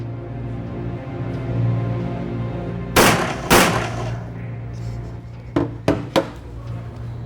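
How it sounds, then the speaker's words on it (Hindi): Gunshots during shooting practice at a target attacker: two loud, sharp bangs close together, then a quicker run of three softer shots, over a steady low background hum. "तुमने अटैकर पर गोली चलाई"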